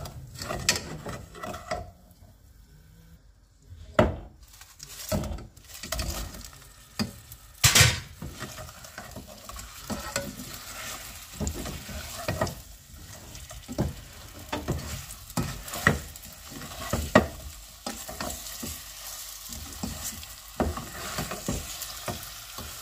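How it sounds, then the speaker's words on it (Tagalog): Brown sugar caramelizes in a pan on the stove, heard as soft sizzling broken by irregular scraping and stirring strokes, close and fairly quiet. "mag-caramelize naman tayo ng brown sugar"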